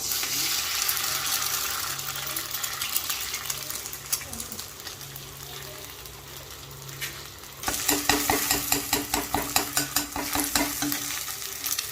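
Goat blood mixed with two beaten eggs being stirred and fried in an oiled pan, with steady sizzling and a scraping stir that turns into rapid rhythmic spatula strokes toward the end.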